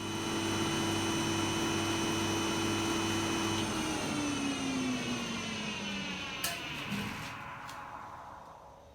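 A new Carbatec jointer runs on its first test, giving a steady motor hum and whine for about four seconds before winding down as the cutter head coasts to a stop.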